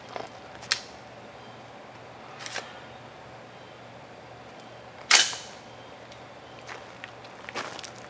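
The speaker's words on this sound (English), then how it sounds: "We'll go ahead and fire the supers" A supersonic 160 grain powder coated bullet is fired into ballistic gel, one sharp loud report midway, with scattered clicks and handling noises before and after.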